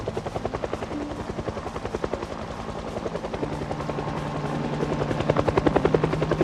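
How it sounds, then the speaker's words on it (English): Helicopter in the Project Zomboid video game passing overhead, a steady rapid rotor chop with engine drone that holds loud throughout and swells slightly near the end, no talking. "the last surviving person on the planet, and they've got a helicopter"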